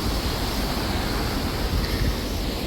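A small stream runs out below a waterfall, giving a steady, unbroken rush of flowing water close by with no voices.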